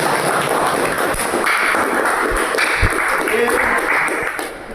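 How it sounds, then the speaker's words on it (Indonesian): Students in a classroom clap together for their answers, a steady broadband patter of many hands with a faint voice running through it. "Kasih tepuk tangan untuk jawaban kalian semuanya"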